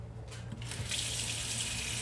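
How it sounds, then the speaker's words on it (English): Hot water runs from a tap over a deer skull, making a steady, close rushing splash that swells after a brief start and continues evenly without talk. "I'm going to run it under some hot water here"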